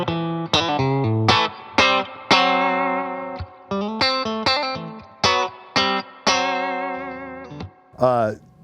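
Electric guitar fitted with Fishman noiseless pickups, its second tone control's push-pull pot pulled for a hot Texas-style boost, playing a loud, driven phrase of sharply picked notes and chords with a rhythmic pulse and a bend at the end.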